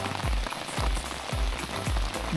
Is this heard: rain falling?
yes